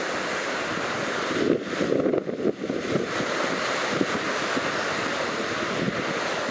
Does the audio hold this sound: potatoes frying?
no